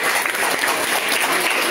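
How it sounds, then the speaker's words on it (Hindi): Steady, dense applause from an audience at a Saraswati Puja music event, continuous and moderately loud throughout without pause. "जोरदार तालियां होनी चाहिए।"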